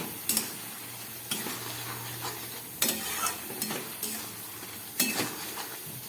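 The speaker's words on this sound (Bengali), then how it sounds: "একটু নেড়ে দেবো। দেখুন কচুরলতি একদম নরম হয়ে গেছে।" Taro stolons cook in a pan as a utensil stirs them, giving sharp scraping clatters at irregular beats over a soft, steady sizzle, close and without speech.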